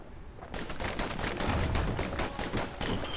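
Dual slinger pistols fire in rapid, dense bursts in the video game Bastion, a loud, continuous volley of shots with no talk.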